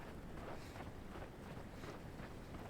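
A waterfall in the video game Lifeless Planet gives a steady, faint, broadband rushing roar with no breaks or talk.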